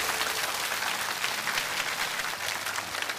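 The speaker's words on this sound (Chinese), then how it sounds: "所以再一次用掌声向他们致敬" A studio audience on a television talk show applauds in a sustained, even wash of clapping that fills the full stretch with no voices over it.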